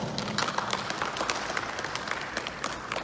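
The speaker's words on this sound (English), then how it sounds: "Give yourself a round of applause." A temple audience at a Buddhist Dharma talk claps for about three seconds, a steady, fairly faint patter of many hands that never stops or swells.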